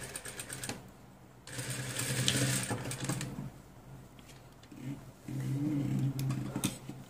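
A sewing machine stitching the elastic waistband of a child's pants, its motor whirring in two steady runs separated by a short quieter pause.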